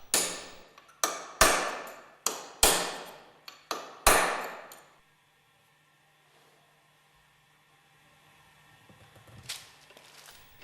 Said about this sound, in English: Drive the angular contact ball bearing out of the bearing bush with the aid of a mandrel.